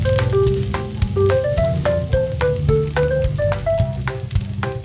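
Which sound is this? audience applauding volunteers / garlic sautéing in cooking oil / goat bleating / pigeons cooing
garlic sautéing in cooking oil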